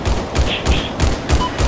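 Rocket impacts in Battlefield 4 land as a series of about six heavy thuds in a steady rhythm, each a dull boom with a short crack, fairly loud and close.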